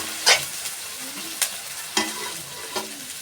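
Ginger, garlic and green chilies fry in a pan for a fish korma, a steady sizzle broken by four distinct clacks of a stirring spoon, close by and without talk.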